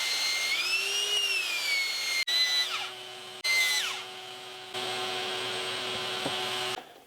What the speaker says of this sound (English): That was 80 grit on the belt sander.